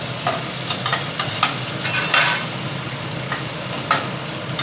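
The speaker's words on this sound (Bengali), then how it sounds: "এবার আমি আলুগুলো ভেজে নেব" Potatoes frying in a pan for a hilsa fish curry with eggplant, a steady close crackling sizzle with scattered louder pops and stirring clatters throughout.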